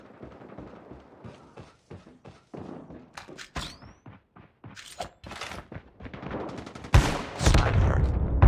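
A busy gunfight in COD Mobile, with scattered thuds, clicks and impacts building to a loud, close, booming blast from an HS0405 shotgun near the end.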